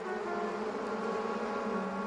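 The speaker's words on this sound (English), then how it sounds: "the bees swarmed straight into their new home." A swarm of bees buzzing, a steady, faint droning hum with a layered whine, continuous and even throughout with no speech.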